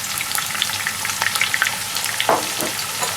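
Chopped onions sizzle steadily in hot oil where cumin seeds are already browning for matar pulao, a close, continuous crackle with small pops and the occasional stir scraping the pan.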